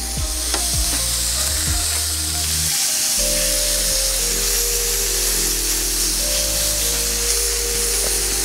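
Steak sizzling on a 17 inch Blackstone griddle outdoors while camping, a loud, steady, close frying hiss with a few metal spatula scrapes and a brief drop in the sizzle partway through.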